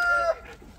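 A rooster crows briefly at a distance outdoors, a short high call lasting under a second that trails off into quiet background.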